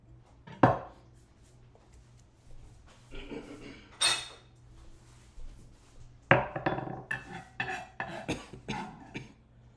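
Knife chopping through large onions on a cutting board in a home kitchen, irregular clusters of sharp close knocks with quiet gaps, faster in the later part, with a cough near the start.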